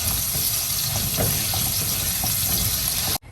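Onion and garlic sautéing in hot oil for chicken rice give off a steady, close, even sizzling hiss that carries on with no break until it cuts off abruptly near the end.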